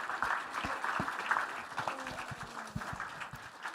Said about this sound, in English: And a round of applause for Williams